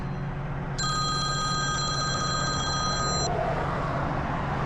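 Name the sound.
work phone ringing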